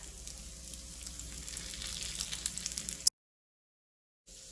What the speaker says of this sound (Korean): 만들어 놓은 만두를 넣어 주시는데요. 이때 너무 센 불보다는 약불에서 천천히 은은하게 구워 주시는 것이 훨씬 더 맛있습니다.